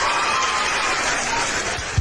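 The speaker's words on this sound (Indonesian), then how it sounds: "tepuk tangan dulu buat Tuhan." A church congregation claps hands together, a dense, steady wash of applause filling the space without pause, loud and close, with a faint tonal whistle running through it.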